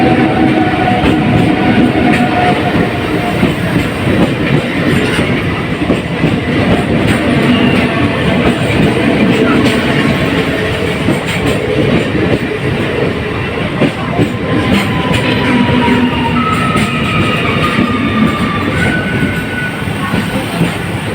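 A train pulls into a busy station, loud and close, with a continuous heavy rumble, rhythmic wheel clatter over the rails and thin squeals rising from the wheels.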